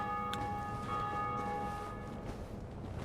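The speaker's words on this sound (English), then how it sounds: "I'm genuinely really enjoying how many bells I'm hearing get rung" A bell rings out in Dark Souls Remastered, a sustained metallic tone that decays slowly over a steady low background rumble, heard alone without speech.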